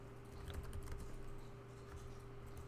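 Computer keyboard typing while code is entered, a steady patter of soft key clicks over a constant electrical hum, fairly faint and continuous with no voices.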